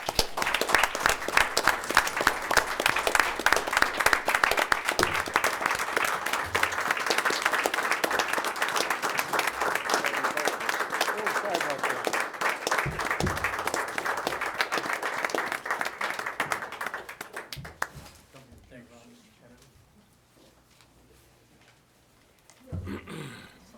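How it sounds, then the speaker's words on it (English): Sustained audience applause at a Wayne-Westland school board meeting for George T. Kennedy receiving his high school diploma, steady dense clapping for about eighteen seconds before fading out, with a brief murmur near the end. "So we want to give him a big round of applause"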